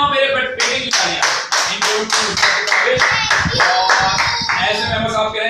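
Rhythmic hand clapping by a small group including children at a kids' show, loud and close with sharp, evenly spaced claps and a faint chuckle under it.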